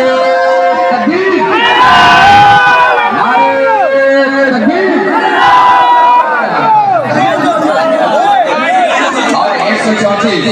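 Crowd at a Nara-e-Takbir rally shouting back in loud, overlapping unison, a dense swell of many voices with whoops and cheers rising and falling throughout.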